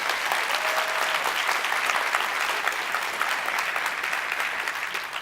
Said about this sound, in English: So can we have a big round of applause for Microsoft?